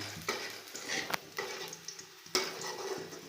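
Chopped onions sizzling in a pan while being stirred and browned, with close, loud frying crackle and repeated scraping strokes of a spoon over about three seconds, no voices.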